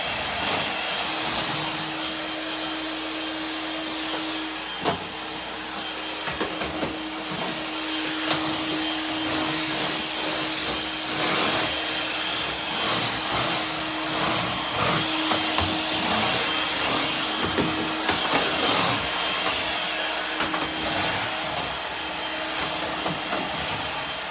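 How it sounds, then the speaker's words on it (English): A vacuum cleaner runs continuously with a steady whine and hum, with occasional bumps and knocks as it moves around; no one speaks. "I'm going to slide the chair back over here so I can vacuum everything in basically this area."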